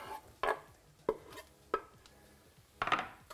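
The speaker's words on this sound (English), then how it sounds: "I'm going to stir this up just so they soften a bit" Mushrooms and onions get stirred in a pot with a spoon, four distinct clunking knocks and scrapes spaced apart, fairly quiet and close, with no talking over them.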